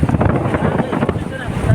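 Strong northeast monsoon wind at sea buffets the microphone in loud, gusty rushes, with churning water and waves mixed in, close and turbulent for a brief stretch.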